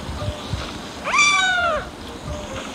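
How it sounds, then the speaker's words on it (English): A single drawn-out cartoon cat meow from the Toca World video game, clear and close, rising and then falling, with faint background noise around it. "This is my kitty."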